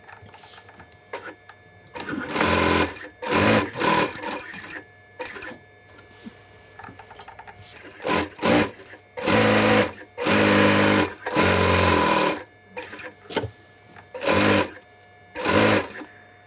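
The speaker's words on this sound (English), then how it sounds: "so then the top stitch, because we sew the cuffs on 1 inch, so from there, sew down about 1 inch." An industrial sewing machine in a London bespoke shirt factory top-stitches shirt cuffs in several loud, close bursts of rapid whirring, each run a second or two long and separated by short pauses.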